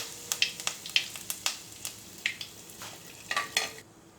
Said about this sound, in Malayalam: ഇനി നമുക്ക് കറിവേപ്പില ചേർത്ത് കൊടുക്കാം.